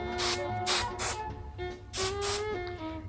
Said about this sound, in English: I'm going to put a tiny bit of hairspray